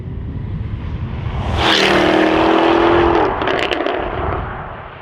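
A Jaguar F-Type V8 AWD engine revs up close, its rumbling idle swelling into a loud, rising bark before settling back down, with a few crackles as the revs drop.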